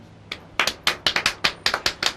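Hands clapping in applause, with about a dozen sharp claps in an uneven rhythm, close and fairly loud over a quiet background.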